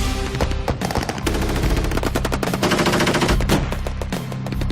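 A LAV Bushmaster cannon fires rapid bursts during a military combat training exercise, loud sharp repeated bangs in quick succession with dense echoing, with no voices.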